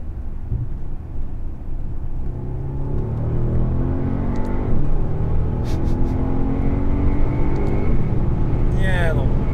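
Brabus S800 car accelerating from a steady cruise, its engine rumble building steadily and staying loud and close throughout, with talk over it.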